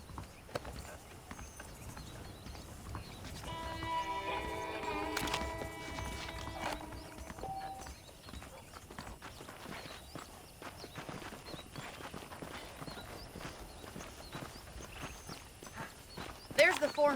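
Horse hooves clip-clop in the Red Dead Redemption video game, a steady walking rhythm under game speech and background sound, with a few sharper knocks scattered through.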